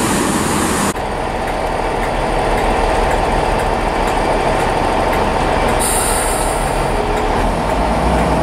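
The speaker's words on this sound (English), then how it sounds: "this is my train taking me over to St Andrew Road. This will be 165-135." Train 165-135, a diesel multiple unit, rumbles steadily into a station, loud and close, with a brief high wheel squeal partway through and no talk.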